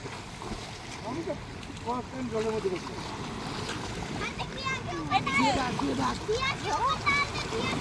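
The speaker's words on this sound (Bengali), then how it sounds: "বাবা ছেলে তিনজনের জলে স্নান করে" A father and his sons bathe in river water, splashing continuously while children's voices and adult talk carry over the water, with a light breezy wash underneath.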